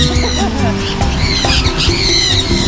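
Several tropical birds squawk and screech loudly and close by while perched on a person being held, their shrill cries overlapping with excited talk and laughter from people nearby throughout.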